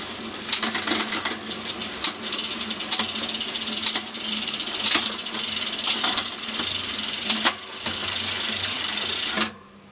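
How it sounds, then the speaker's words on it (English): Bicycle derailleur running a chain through the gears of an 11-50/11-52 cassette, a steady whirring freehub buzz punctuated by repeated sharp clicking shifts, close and fairly loud, ending abruptly. "So let's run it through all the gears."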